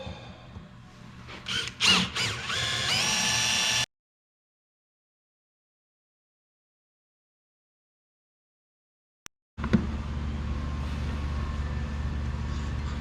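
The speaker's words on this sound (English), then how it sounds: "And then we're gonna drill and tap hole." A power drill whines and revs in short bursts while drilling and tapping holes in metal, then cuts to silence before a steady, loud machine drone starts up.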